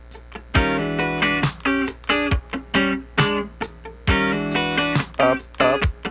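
A clean funk rhythm guitar part plays alone, loud and close, with crisp chord stabs in a syncopated pattern of upstrokes and downstrokes separated by short muted gaps.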